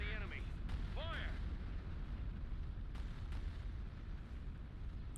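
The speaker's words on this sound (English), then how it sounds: "The cannon is locked on the enemy. Fire!" Cannon fire in the strategy game Empire at War (Phoenix Rising mod) booms under a dense roar of battle noise, with a couple of short electronic chirps early and sharp bursts around the middle.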